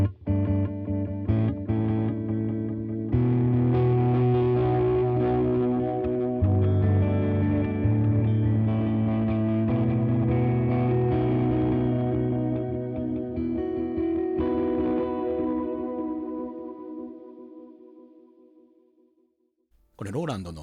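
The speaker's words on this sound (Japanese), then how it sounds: "中でも自分が気に入ってるのがこのコスモスエコーっていうモデル。" Cosmos Echo tape-style modulated delay, modeled on the Roland Space Echo, from a Line 6 HX One multi-effects pedal, with sustained guitar chords smeared by thick, wobbling repeats that ring out and slowly fade to near silence.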